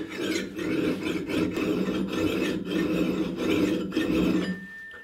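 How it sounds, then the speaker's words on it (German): A hand file rasps steadily across an axe blade resting on a folded cloth, as a damaged, wrongly ground edge is restored; close, loud repeated strokes with brief pauses between them, no talking. "Ich nehme die Feile, lege das auf den gefalteten Fetzen auf,"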